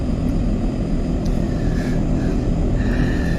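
OV-10 Bronco propeller aircraft engine in a VR flight game, a steady loud droning hum with constant low rumble throughout and no talking.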